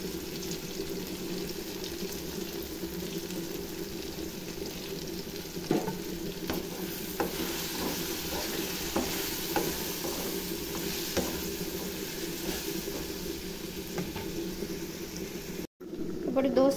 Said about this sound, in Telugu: పచ్చిమిర్చి వేగేటప్పుడే కొంచెం పసుపు కూడా వేసుకుందామండి